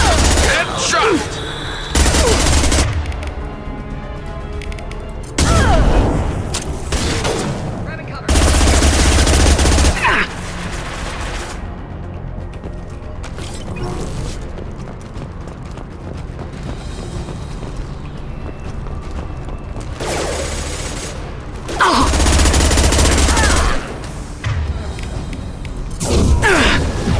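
Bursts of video game gunfire from Mass Effect 2, with heavy booming volleys recurring every few seconds, separated by quieter stretches of battle noise and a voice speaking throughout.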